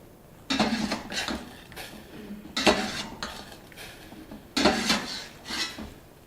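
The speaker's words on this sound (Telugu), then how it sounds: "స్టవ్ ఆఫ్ చేసేసుకొని వీటిని ఒక బౌల్లోకి తీసేసుకుందాం." Boiled sweet corn is scooped from a pot into a bowl: close bursts of metal utensil scraping and clinking against cookware, spaced a second or so apart.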